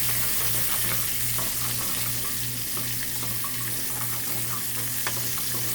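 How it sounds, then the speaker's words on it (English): Chopped green peppers and onions sauté in a pan with a steady, hissing sizzle, close and continuous, with occasional faint clicks and no talking. "you're gonna saute the green peppers and onions. Gonna put those in first."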